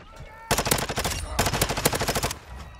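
A Vaznev-9K in Modern Warfare 2 fires two rapid full-auto bursts, each a loud, tightly spaced string of shots separated by a short gap.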